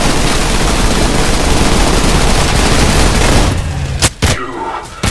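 Sustained heavy gunfire from the shooter game Trepang2, a loud dense barrage that cuts off into a few sharp isolated shots near the end.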